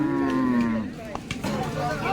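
A Gir cow moos once at a busy Baramati cattle market, a long low call over the first second, followed by scattered market noise and faint voices in the background.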